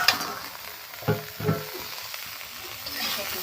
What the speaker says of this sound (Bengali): একটু তেল দিয়ে আমি একটু ভেজে নিই।